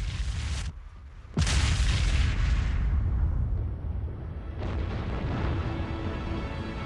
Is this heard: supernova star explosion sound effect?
yes